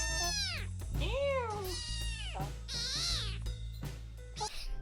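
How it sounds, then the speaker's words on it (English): A cat meows several times in a row, drawn-out and wavering cries, close and loud over a steady low background hum. "Come on, meow."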